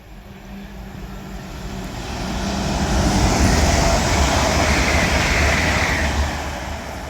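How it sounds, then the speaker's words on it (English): Avanti West Coast Class 805 Evero train passing through Lichfield Trent Valley station, a broad rushing roar that swells to a peak midway and fades away, alone without talk. "Now passing through is going to be an Avanti West Coast Evero, which is forming a 1528 service to London Euston."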